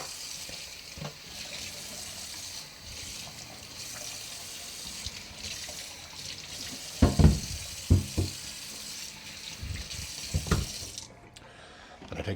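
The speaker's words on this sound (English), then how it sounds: "It's bad enough you're doing it in the kitchen sink" Boots get a quick rinse under a kitchen sink tap, a steady wash of running water with several sharp knocks and bumps against the sink partway through.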